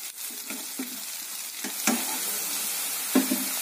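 Onions and green chillies sauté in a pan for a cauliflower curry, with a steady close sizzle broken by occasional scraping stirs.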